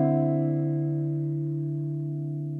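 A single sustained guitar chord rings out with a minor quality, decaying slowly and evenly, clear and close with no other sound.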